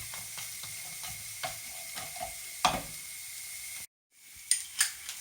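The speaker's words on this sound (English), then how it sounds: "Just gently break that down with a wooden spoon." Frozen Quorn mince sizzles quietly in a pan while a wooden spoon breaks it up, giving soft scraping knocks and taps at uneven intervals, then a brief silent gap before a few more sharp clicks.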